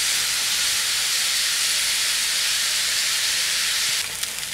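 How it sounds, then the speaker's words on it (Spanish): Onion and bell pepper frying in a pan, a steady loud sizzle and hiss that runs without a break, with a few faint clinks near the end. "Dejamos que se dore la cebolla con morrón por unos 3-4 minutos."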